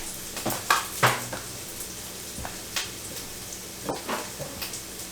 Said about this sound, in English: Let me stir the onions.